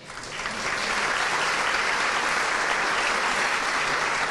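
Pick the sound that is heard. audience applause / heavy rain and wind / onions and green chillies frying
audience applause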